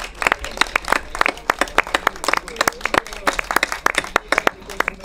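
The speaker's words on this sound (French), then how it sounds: "Donc je voudrais qu'on les applaudisse encore." Steady applause from an audience at a literary prize ceremony in Pieusse, France, many hands clapping together with a few sharper claps standing out, continuing throughout.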